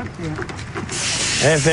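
A sprayer applying Roundup herbicide gives off a steady, broad hiss that starts partway through and continues while a person talks over it.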